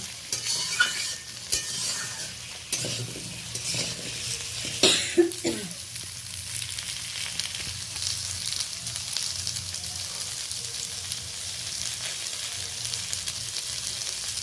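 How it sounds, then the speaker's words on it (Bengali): Pointed gourd, potato and sweet potato sizzle and are stirred in a little ghee in a pan. Scraping stirs are loudest early on, then a steady frying hiss continues with a brief cough. "পটল আলু আর মিষ্টি আলু ভাজছি এই সময় আমি অল্প ঘি দিয়ে দিলাম"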